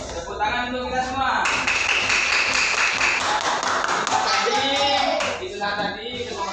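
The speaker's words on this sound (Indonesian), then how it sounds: "Tepuk tangan untuk kita semua." Children in a primary school classroom clap their hands together in a dense, lively burst lasting several seconds, with a teacher's voice talking before and after it.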